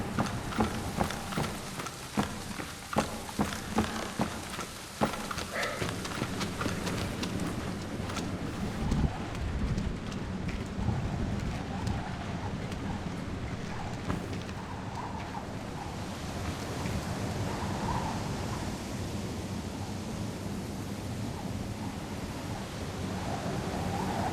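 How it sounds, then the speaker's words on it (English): Heavy rain and wind from a thunderstorm in the video game Splinter Cell Chaos Theory make a loud, dense wash, with a few sharp cracks early on before it settles into an even, steady downpour. "Thunderstorms make me nervous."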